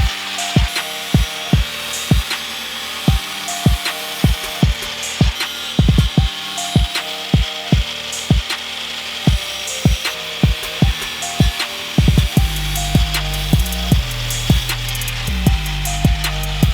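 Power saw cutting through plastic off-road vehicle fender flares caked with mud, a steady stream of sharp, close rasping bursts with brief pauses, shifting to a deeper, more continuous grinding cut near the end.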